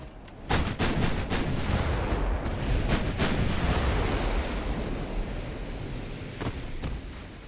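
Nine-inch guns of a cruiser firing salvos in the naval battle game Ultimate Admiral Dreadnoughts: a few sharp booms over a constant roar of sea surf and wind, loud and close.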